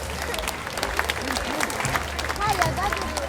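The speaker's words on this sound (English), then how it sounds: "please give them a warm round of applause" An audience claps and cheers for Korean dancers at a community cultural event in Surrey, a steady wash of many hands close by, with crowd murmur and scattered voices mixed in throughout.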